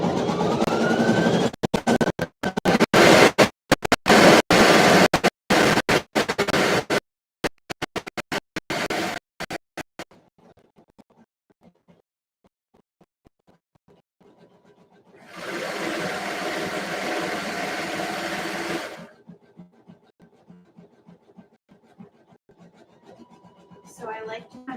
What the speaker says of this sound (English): And now I'm serging as much as I can at this point.